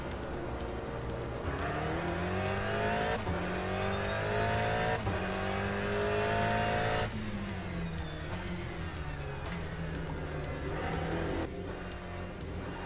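Aston Martin race car in a Le Mans racing video game, engine droning steadily and loud with gear-shift rises and drops in pitch throughout, no talking.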